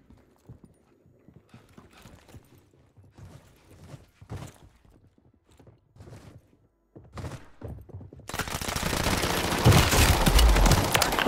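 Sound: SMG gunfire in video game Call of Duty Warzone

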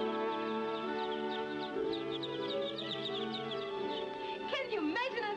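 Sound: chicks hatching from eggs

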